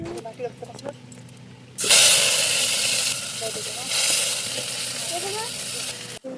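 Cumin seeds and ground masala hit hot oil in a kadai while cooking potol sajana kasa. A sudden loud sizzle settles into a steady close hiss, and a person speaks before and over it.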